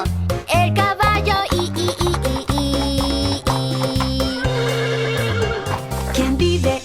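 A horse's neigh rings out within a bouncy children's farm-animal song, set against steady, busy backing music throughout.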